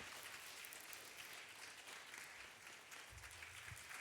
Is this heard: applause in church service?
yes